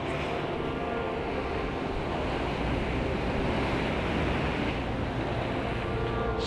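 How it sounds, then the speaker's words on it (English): Sea waves at North Berwick surge and splash against the shore in a steady, loud wash of broadband noise with no break, and no voices. "Splashing all the way up."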